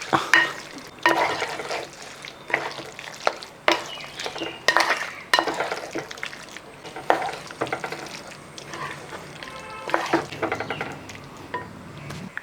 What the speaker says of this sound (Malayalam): നമ്മുടെ ഇറച്ചിയും കപ്പയും ഒരു ഉരുളിക്കകത്താക്കിയിട്ടുണ്ട് ഇനി നല്ലപോലെ മിക്സ് ചെയ്തെടുക്കണം